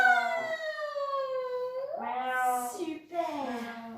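During kids' yoga a person's voice imitates a cat's meow, drawn-out wavering mews that slide up and down in pitch, repeated twice in close succession.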